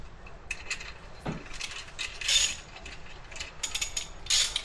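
A ratchet wrench tightens bolts with lock washers on a Club Car golf cart during a lithium LiFePO4 battery conversion, in several short bursts of quick metallic clicking, close and clear, separated by brief pauses and a light clunk.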